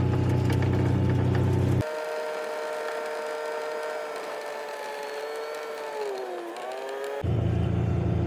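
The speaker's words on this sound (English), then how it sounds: "So we're just gonna finish driving this boundary around our store quick." A John Deere Gator utility vehicle drives along with a steady whirring motor hum and tonal whine, loud and close, the pitch dipping briefly near the end.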